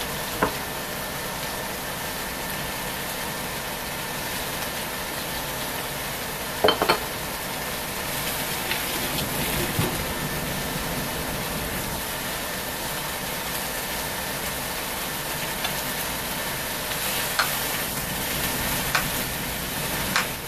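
Something sautés in a pan with salt and pepper while a patty melt is cooked, producing a steady low sizzle with occasional light clinks and scrapes over a constant background hum.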